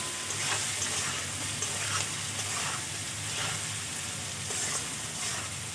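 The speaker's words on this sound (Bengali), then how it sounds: "আমার কিন্তু সব সবজিগুলো ভালো করে ভাজা হয়ে গেছে।" Mixed vegetables being stir-fried for homemade fried rice, a steady close sizzle with repeated scraping stir strokes of a spatula in the pan, loud and continuous with no talking.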